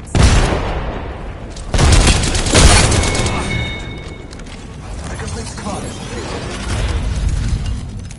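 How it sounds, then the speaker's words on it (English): A frag grenade blasts in a video game, giving a few loud booms amid bursts of gunfire and mechanical clatter, with a voice speaking over the action. "Frag grenade set."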